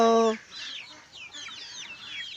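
Native chickens cluck and chatter close by in a farm area, a steady run of short, high calls after a brief loud tonal note at the start.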